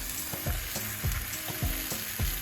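Chebureki frying in a covered pan, a steady dense sizzle with soft, regularly spaced scraping or bubbling bursts recurring about every half second, close and continuous with no voices.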